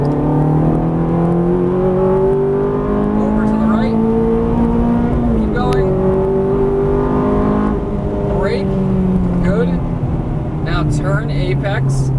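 A Ferrari 430 engine accelerating on a race track, a loud continuous roar with rising and falling pitch as it climbs through revs, heard from inside the car with a voice talking over it.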